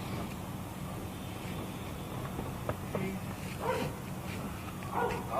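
A dog barks and yelps a few times at a distance outdoors, the short calls rising over a murmur of background noise and people talking nearby.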